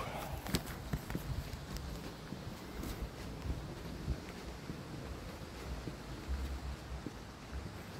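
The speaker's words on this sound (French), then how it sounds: "C'est quoi ce vent?" Outdoor wind gusting across a microphone during a walk, low rumbling buffets with scattered thumps throughout, steady and fairly close.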